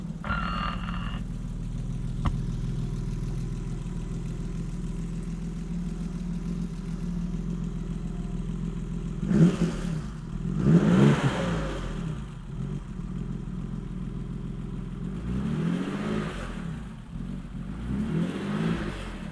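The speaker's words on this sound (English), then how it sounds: "the next thing we should do is kind of start her up and kind of see how the motor" A BMW 3.0 CSL restomod's engine runs steadily at idle, then rises in two sharp revs close by, followed by a longer swelling rev, loud throughout with no talk over it.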